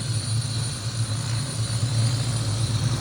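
A helicopter passes overhead as a steady low rotor and engine drone at moderate distance, with no talking.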